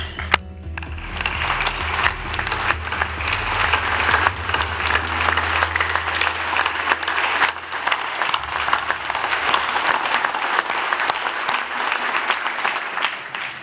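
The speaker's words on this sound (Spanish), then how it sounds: "Luis Crescencio Sandoval González, a quien deseamos todos una pronta recuperación y le aplaudimos." An audience at a Mexican Army anniversary speech applauds steadily, a dense, loud wash of clapping sustained for the whole stretch with no speech over it.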